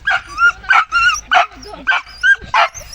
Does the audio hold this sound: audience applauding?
no